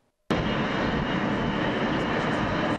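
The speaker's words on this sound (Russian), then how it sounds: "такой «Боинг» приземлился впервые" A Boeing 777F cargo jet airliner of Lufthansa Cargo at Krasnoyarsk's Yemelyanovo airport roars in abruptly after a moment of silence, then holds a loud, steady, broadband engine rumble and whine.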